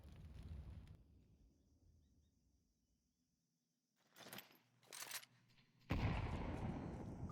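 AK rifle fire in a Counter-Strike match comes as short, loud bursts in the second half, followed by a sustained blast. Earlier, muted game ambience fades almost to silence.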